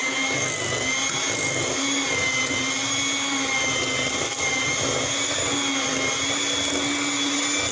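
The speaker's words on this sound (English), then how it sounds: "now we'll just mix the egg up with the butter and the powder" An electric mixer beats egg together with butter and powder for sugar cookie dough, a loud, steady, close motor whine that runs without pause.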